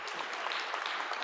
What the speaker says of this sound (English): You can applaud once again for all